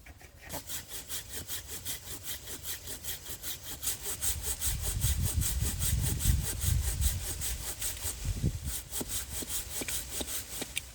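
A hand saw cuts through a durian tree trunk in an orchard, a close, rhythmic series of rasping back-and-forth strokes that deepen and grow louder midway as the blade bites further into the wood.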